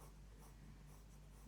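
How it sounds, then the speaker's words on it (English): A pencil shades a still life drawing of a cupcake on paper, with slightly firmer pressure, giving a faint, steady scratchy rasp that runs continuously and closely for the whole moment with no talking. "Pressing slightly harder with my pencil, but not as light as these sections here,"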